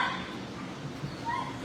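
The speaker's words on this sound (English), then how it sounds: "Very pretty black dog, large black dog, very affectionate." A large black shelter dog barks and whimpers at close range, short yips and whines rising over a steady background hum of the kennel.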